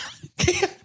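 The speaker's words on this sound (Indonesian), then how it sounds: "Dia batuknya kayak ditonjokin aparat" A single harsh cough bursts out after a short faint lead-in, close and loud, lasting under a second.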